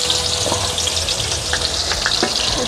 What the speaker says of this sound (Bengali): তো দেখো প্রথমে উচ্ছাটাকে ভেজে নিব।